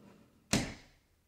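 A pantry door closes once with a single soft thud and a short fading tail, faint and isolated in a quiet room.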